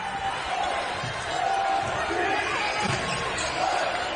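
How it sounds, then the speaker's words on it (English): A crowd at a Pac-12 women's college basketball game between Oregon State and Arizona roars steadily after a three-pointer ties the score, while a commentator talks over the noise. "Crowd loves that."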